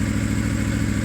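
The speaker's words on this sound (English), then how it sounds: "I already was running the bike," A motorcycle engine idles steadily and close by, already warmed up, giving a rapid, even low pulsing with a faint mechanical clatter over the short stretch.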